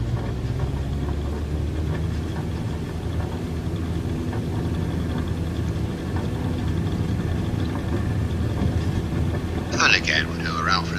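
A light aircraft engine drones steadily and close during circuit practice as power comes up for a go-around, with a brief burst of speech near the end.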